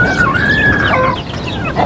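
Mother hen turned alert and agitated in a farmyard coop, giving a brief run of close, rapid alarm clucks over rustling background noise.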